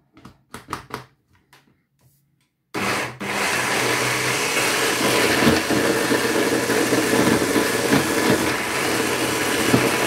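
After a few soft clicks, a kitchen blender roars to life, whipping a sorrel and banana dessert with fresh mint leaves, holding a loud, steady whirring drone to the end with no voices.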